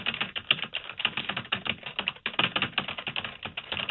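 Rapid keyboard typing clatters steadily and close during a phone call on a sports radio show, keys tapping in a dense, uneven rhythm with no talk over it.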